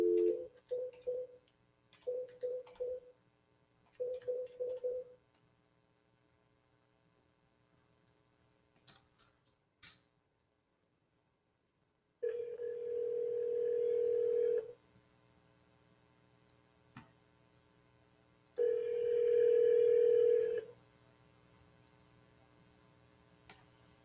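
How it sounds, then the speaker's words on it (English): Several short bursts of touch-tone beeps from a telephone being dialed, followed by two long, steady dial or ringing tones separated by a quiet gap, with faint hum underneath. "I am going to start dialing"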